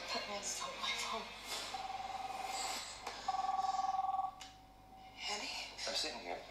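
A telephone rings in bursts of steady electronic tone, roughly midway through, inside a tense Russell Crowe thriller trailer (Unhinged, 2020), overlaid on dialogue and dramatic score.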